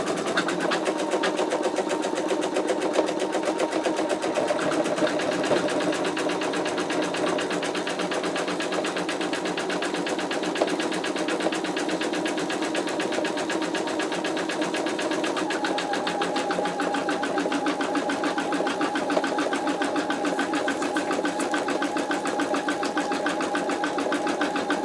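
An embroidery machine stitches out an in-the-hoop wallet with satin stitching, a steady rapid needle chatter and motor hum running nonstop at close range for about twenty-five seconds without talk.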